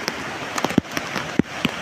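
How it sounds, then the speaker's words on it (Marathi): Heavy first monsoon rain falling at Kalvi Bandar beach near Vengurla on the Konkan coast, a steady hiss of rain with scattered sharp drops and patters standing out, close and fairly loud. "पावसाने जोर पकडला आहे मित्रांनो"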